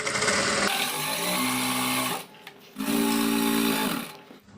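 A sewing machine stitching a straight seam on piping cord, a steady whirring run that pauses briefly, then resumes at the same pace, moderately loud with no talking.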